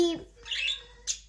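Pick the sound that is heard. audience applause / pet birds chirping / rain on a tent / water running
pet birds chirping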